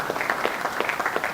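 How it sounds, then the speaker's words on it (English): A crowd applauds at an advertising practitioners' council installation ceremony in Nigeria, with a brief, steady patter of many hands clapping, moderately loud and continuous. "can you clap for him"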